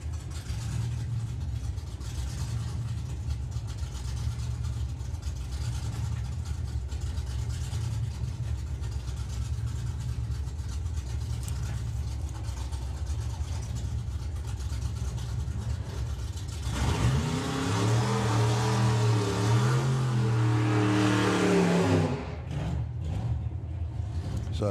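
Hot rod cars at a Santa Pod Raceway drag race, including a flamed Willys: a steady distant engine drone for a long stretch, then a loud roaring launch with rising revs before it cuts off sharply.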